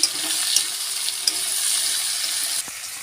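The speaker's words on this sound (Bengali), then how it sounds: "এবার এর মধ্যে কিন্তু আমি টমেটোটা দিয়ে দিলাম দিয়ে আর একটু ভাজা ভাজা করে নেব" Tomato with ginger frying in a pan for a snakehead fish curry, a steady loud sizzle with hiss throughout and a few brief clinks, with no talking.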